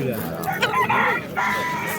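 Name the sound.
rooster crowing at a poultry market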